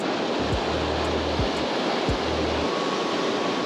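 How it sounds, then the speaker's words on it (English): Ocean waves surging against a rock jetty at Dana Point, California, a continuous roaring wash of surf with deep thuds as swells hit the rocks, loud and close, with no voices. "When the waves are this crazy, try to stay away from down there."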